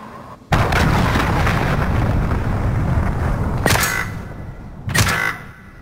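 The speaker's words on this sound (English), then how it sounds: "Allied cruise missile away" A cruise missile strike in Call of Duty Modern Warfare lands as a loud, sudden explosion with a long rumbling tail, followed by two further sharp blasts near the end, with no talk over it.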